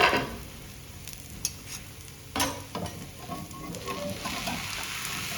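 A paneer masala dosa roasts on a pan with a faint, soft sizzle, while occasional spatula scrapes and taps stand out near and brief, more of them in the first half.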